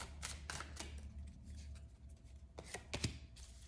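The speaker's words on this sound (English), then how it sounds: "One more shuffle." Tarot deck shuffled by hand at close range: a few quick papery riffles and card flicks in short bursts, quiet, with no voice over them.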